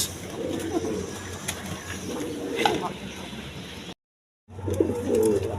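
A breeding pair of pigeons coos in low, repeated rolling calls, fairly close, with a brief silent gap partway through before the cooing resumes.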